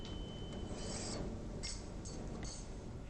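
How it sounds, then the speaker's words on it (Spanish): Hand file rasping across aluminium workpieces being deburred before TIG welding, several short scraping strokes in an uneven rhythm, close and fairly quiet with no talking. "Antes de comenzar a soldar, refilamos las piezas."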